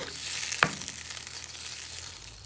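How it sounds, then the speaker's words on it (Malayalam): Chicken sizzling in a pan under a soft, steady hiss, with one sharp scrape of a stirring utensil early on before the frying settles back to a quiet, even crackle. "ഒരു 2-3 മിനിറ്റ് ശേഷം ചിക്കൻ നമുക്കൊന്ന് ഇളക്കി കൊടുക്കാം."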